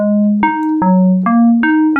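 A bright, buzzy FM synthesizer tone with a raised FM index, rich in overtones, plays a sequence of short notes, each starting with a sharp attack and shifting pitch.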